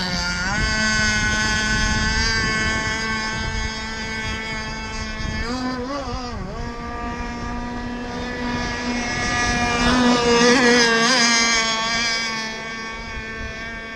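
An Insane Hulls RC Jersey skiff's motor runs steadily with a loud, buzzing, harmonic drone, rising and falling slightly in pitch as it warms up, close and continuous.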